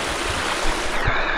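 River water flows loud and close, a dense unbroken rush and splash that fills the whole stretch before dropping slightly in brightness near the end.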